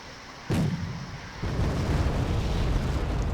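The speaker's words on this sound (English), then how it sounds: "Starfighter's going to come in and drop bombs on those guys" Cluster bombs dropped by a Starfighter jet in the wartime strategy game Wargame: Airland Battle burst in a sudden loud blast, followed a second later by a second rumbling wave of explosions that rolls on continuously.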